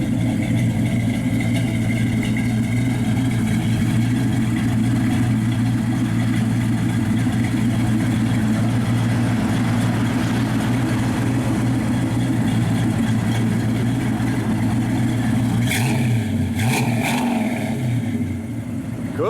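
A 1972 Plymouth Duster 340 V8 with dual exhaust and correct tips idles with a loud, steady, lumpy rumble, then blips its throttle in a couple of short revs near the end, with no talking over it.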